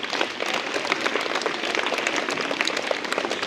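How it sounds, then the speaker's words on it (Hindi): Students at a government secondary school welcome event clap together in a steady, dense round of applause that holds evenly for a few seconds, moderately loud and without talk over it. "जोरदार तालियां।"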